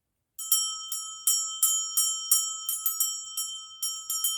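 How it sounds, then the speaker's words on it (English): A small hand bell rung repeatedly to clear energy from a deck of oracle cards, about a dozen bright ringing strikes in an uneven rhythm, close and loud with sustained tones, no talking. "We'll use the bell."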